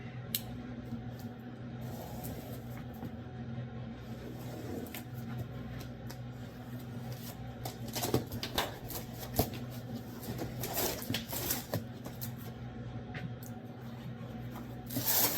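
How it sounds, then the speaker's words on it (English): Plasma cutter being unboxed from its packaging: steady close rustling and rubbing of cardboard and wrapping throughout, with scattered sharp crinkles and taps, no talk. "let's go ahead and get it unboxed"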